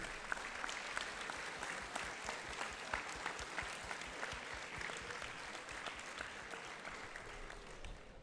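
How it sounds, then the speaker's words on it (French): An audience at a French school event claps for the young people who worked on a project: steady, moderately distant applause with individual claps standing out in an even, continuous patter. "je vous invite à applaudir tous les jeunes qui ont bossé sur ce projet"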